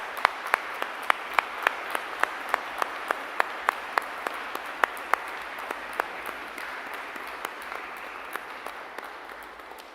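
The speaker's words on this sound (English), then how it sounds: "they too deserve a round of applause." Scattered audience clapping at a university graduation ceremony, fairly faint and distant, individual claps sharp and irregular over a quiet hall ambience for the whole stretch.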